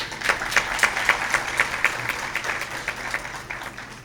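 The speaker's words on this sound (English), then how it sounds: "wonderful round of applause" A conference audience at a gender and women's studies event claps in a fairly quiet, even round of applause, with steady overlapping hand claps carrying on for several seconds in a hall.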